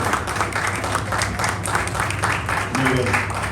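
An audience at a sake tasting claps and applauds steadily throughout, dense and continuous, with some voices mixed in.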